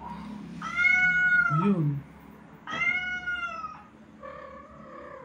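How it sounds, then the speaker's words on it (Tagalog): Orange cat meowing three times in clear drawn-out cries with pauses between, close and fairly loud, a voice speaking briefly underneath. "Uy, nasa yung pusa orange oh."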